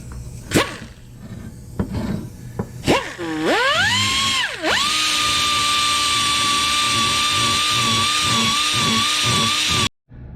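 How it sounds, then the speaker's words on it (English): A burr tool grinding inside a leaf vacuum housing: a loud high-pitched rotary whine that swoops down and back up as it bites, then settles into a steady sustained grind before cutting off abruptly. "let's clean it up a little bit with the burr tool and see what happens"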